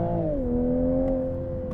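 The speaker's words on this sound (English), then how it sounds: "let that engine just rev." A 2022 Toyota Supra engine revs briefly and close, a strong tonal whine that drops in pitch and then holds steady, with no talk.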